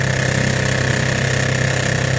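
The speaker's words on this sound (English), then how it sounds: "This is a real good running motor" An antique 1941 Evinrude Handitwin outboard motor runs steadily at close range, a loud, fast, even two-stroke putter with a rattly buzz and no other sounds.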